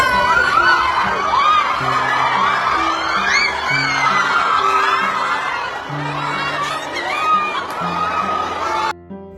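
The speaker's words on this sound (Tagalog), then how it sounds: "sina Catherine at Alden, grabe ang sigaw ng kanilang mga supporters." A large crowd of fans at a mall promotional tour in SM Iloilo, loud and continuous screaming, whooping and cheering from many voices with shrieks and laughter, music audible underneath, sustained for several seconds before cutting off abruptly.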